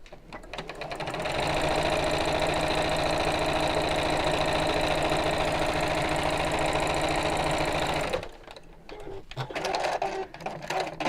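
Sewing machine stitching fabric with a half-inch seam allowance, a loud, steady rapid mechanical whir running continuously for about seven seconds before stopping, followed by quieter handling noises.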